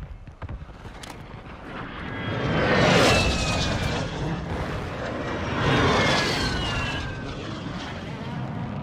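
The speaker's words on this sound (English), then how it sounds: "The enemy called in an airstrike." Enemy airstrike jets in a Call of Duty match roar overhead in two loud swelling passes, with rising and falling whooshes and a rumbling blast-like body beneath, no talk.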